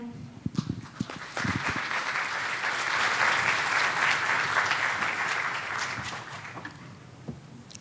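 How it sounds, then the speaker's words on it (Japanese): Warm applause from a conference audience welcoming a speaker swells after a few scattered claps, holds steady for several seconds, then tapers off into a few last claps. "皆様盛大な拍手でお迎えください"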